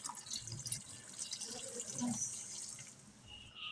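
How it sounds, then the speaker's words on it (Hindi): Water trickles and splashes softly into a pan of boiled chickpeas, a brief quiet pour with light sloshing. "साथ ही हम इसमें डाल देंगे पानी।"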